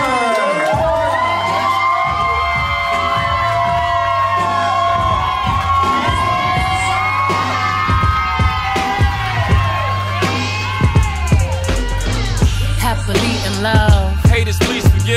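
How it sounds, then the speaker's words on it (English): Wedding guests cheer loudly for the newlyweds at a reception, a dense crowd roar full of whoops, shouts and excited voices that builds toward the end. "And give a great applause for Mr. and Mrs."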